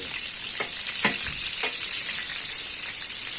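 Shrimps fry in olive oil in a paella pan, a loud, dense, even hiss of sizzling with a few faint utensil taps, no voices.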